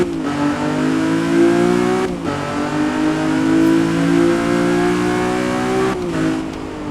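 A Lamborghini Revuelto sports car engine revs loudly and steadily at the Nordschleife, its pitch climbing and holding, with brief dips between throttle pushes.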